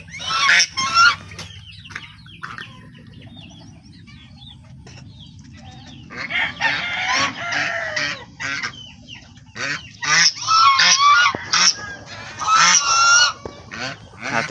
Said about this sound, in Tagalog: Ayan, mga sisiw.